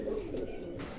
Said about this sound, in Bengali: এই যে এখানে বিস্কুটও কবুতর আছে, বিস্কুট জোড়া